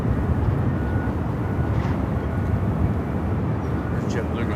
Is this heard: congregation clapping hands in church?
no